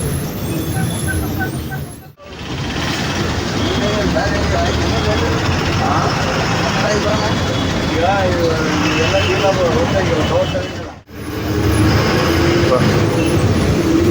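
Loud, continuous rumble of road traffic heard from inside a long-distance bus in India, engine drone and passing vehicles blending together, broken by two brief cuts.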